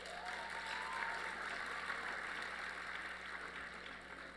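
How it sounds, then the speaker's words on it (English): Luncheon audience at a technology recognition event applauding steadily at a moderate distance, a broad sustained wash of clapping throughout with no talk over it. "Give yourselves a round of applause."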